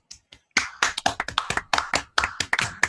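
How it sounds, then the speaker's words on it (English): A small audience at a live Linux stream event claps in a sparse, uneven burst of close, distinct hand claps lasting a few seconds. "that deserves a round of applause"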